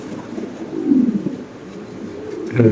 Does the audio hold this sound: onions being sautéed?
no